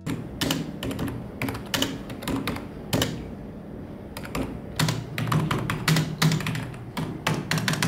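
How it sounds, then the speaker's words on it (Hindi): Typing on a Logitech K120 USB keyboard gives bursts of quick, close plastic key clicks with short pauses between runs, with no voices present. "आपको इस कीबोर्ड की कुछ मधुर ध्वनियाँ सुना देता हूँ"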